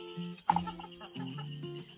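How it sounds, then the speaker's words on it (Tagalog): A chicken clucks close by, a sharp squawk followed by a run of low, murmuring clucks, with no talking. "At yung manok, andyan."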